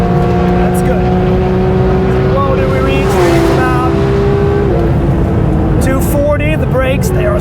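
A Porsche GT3 RS in manual mode revs out toward 9,000 RPM, the loud engine note climbing and holding high before shifting, with someone talking over it inside the car.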